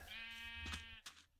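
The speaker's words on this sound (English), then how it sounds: "There's some sheep." A single sheep bleat in the video game Minecraft, a clear wavering cry lasting under a second, followed by a short faint second call, quiet and alone.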